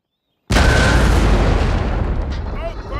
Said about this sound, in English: Keep up the pressure by firing your cannons at the enemy militia.